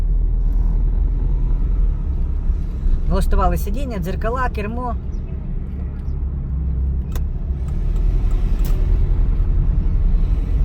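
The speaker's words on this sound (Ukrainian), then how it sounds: "запустили двигун" A car idles steadily at the start of a driving exam, a low constant engine rumble under someone talking through the pre-drive checks.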